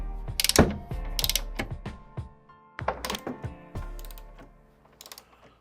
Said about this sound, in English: We're just torquing up the top strut bolts to 30 foot-pounds according to the instructions.